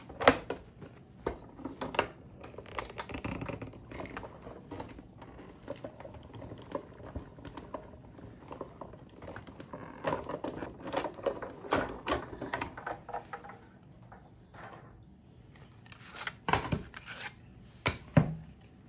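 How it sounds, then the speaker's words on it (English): Black cardstock inside an embossing folder is cranked through a manual die cut machine, giving close, uneven rasping and clicking with scattered louder bursts, no talking. "set it inside of my folder like a book, and run that through my die cut machine."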